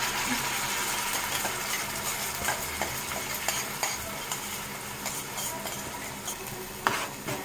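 A paste of green chili, mint, coriander and tomato fries in oil for chicken biryani, giving a soft continuous sizzle with occasional spoon scrapes and light clinks against the pan, close and fairly quiet.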